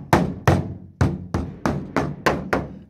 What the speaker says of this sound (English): I'll have my little rubber hammer here.